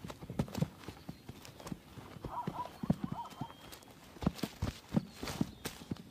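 Wild horses, harem mares and stallions, during breeding season: irregular hoof clops on the ground come close and clear, with a soft whinny in the middle, no one talking.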